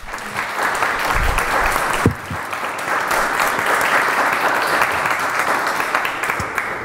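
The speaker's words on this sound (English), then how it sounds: "I think we all owe Marianne Simmons a round of applause." A workshop audience at an equestrian planning panel discussion breaks into sustained applause, dense and close, steady clapping for several seconds with slight variation in intensity.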